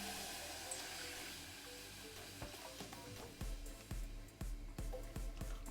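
Water is poured into a pan over a medium-high flame. It makes a faint, continuous splashing hiss, with a few soft clinks and knocks near the end.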